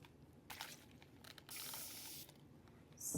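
Short hissing spray bursts aimed into a resin mermaid-tail mold, faint and close, several separate blasts with one longer steady spray in the middle.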